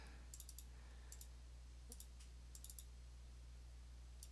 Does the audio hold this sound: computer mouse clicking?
yes